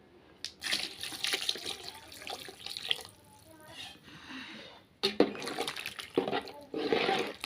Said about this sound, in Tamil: இன்னும் கொஞ்சமாக தண்ணி சேர்த்துக்கலாம்